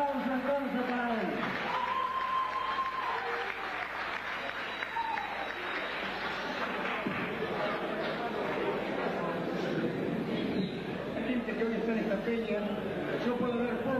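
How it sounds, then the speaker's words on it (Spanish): Audience applause at a tribute concert in Mar del Plata for an Argentine popular-music singer: a steady, fairly loud wash of clapping runs the whole time, with talk and cheering voices mixed in. "Fuerte el aplauso entonces para él."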